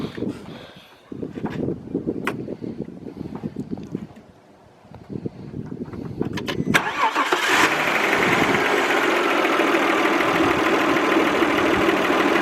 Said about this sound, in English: Let's go see if this car starts up.